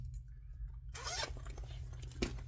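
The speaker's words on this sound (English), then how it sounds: "I'm going to put a zipper pull on." A metal zipper pull slides along the teeth of a freshly sewn slouchy fabric bag, a quiet pause then a sustained close rasping zip with a small clack near the end.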